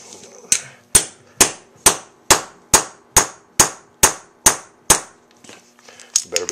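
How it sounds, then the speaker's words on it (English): Ten sharp metallic hammer strikes on a hammer crimper crimping a terminal ring out in a steady, even rhythm, each loud and close with a short ringing decay, followed by faint clinks. "Put it in the hammer crimper."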